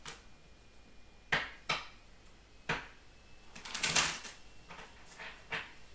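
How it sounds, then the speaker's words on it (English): Brief crisp riffling bursts of tarot cards being shuffled, several separate flurries with quiet gaps between them, close and fairly soft. "One more shuffle."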